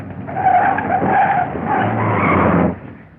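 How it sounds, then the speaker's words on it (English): A car's tires skid and screech loudly for about three seconds as it brakes to a sudden stop, in a vintage comedy setting, the squeal sustained and close before fading out. "Stop the car, quick!"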